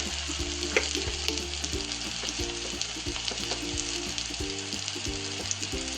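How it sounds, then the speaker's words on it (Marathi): Turmeric, asafoetida and homemade masala frying in hot oil for sprouted moong usal, a steady, close sizzle with light stirring scrapes running throughout, with no talking. "छान सगळे मसाले चांगले तेलात परतून घ्यायचे।"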